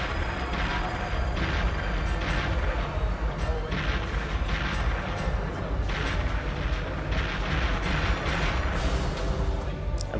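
Continuous barrage of deep booming explosions and rumbling blasts from a Perfect Dark video game cutscene, loud and dense, with bursts layered over a constant low roar.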